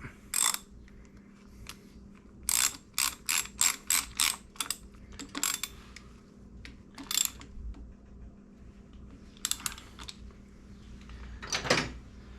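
Ratchet wrench tightening a bolt on a Harley-Davidson Sportster during a stator replacement, heard as several bursts of quick metallic clicking close by, with pauses between runs and a hum in the background.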